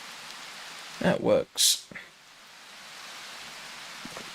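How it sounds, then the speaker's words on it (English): Steady rain falls outdoors in a wooded spot during a hike, a soft continuous hiss beneath a few brief spoken words near the start. "We got the trees, we got the rain, thunder, lightning."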